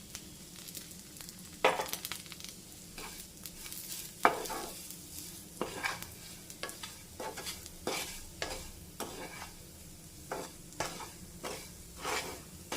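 Roasted banana frying in a pan with a soft sizzle while a spoon scrapes and stirs it, giving irregular clicks and scrapes over a steady low hiss, close and fairly quiet.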